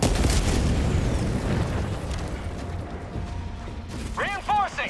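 Grenade blast in the game Helldivers 2: a loud, rumbling burst fills the opening second, then a long decaying roar with scattered mechanical clatter, and a short voice shout near the end.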